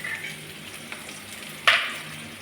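Egg curry masala frying in a pan gives a soft, steady sizzle, with a brief louder hiss and spatter near the end as it is stirred.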